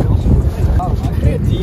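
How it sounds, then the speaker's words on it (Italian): Wind buffeting a microphone outdoors in a park on a sunny day, a steady low rumble and gusty roar with people talking over it. "c'è anche vento"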